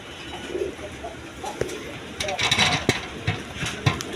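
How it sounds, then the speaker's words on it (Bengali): A pair of Iranian pigeons coos softly and close by, with low rounded calls among rustling and handling noises and some faint background sound. "এখানে আরেক পেয়ার আছে, এটা ইরানি পারহুমা বলে"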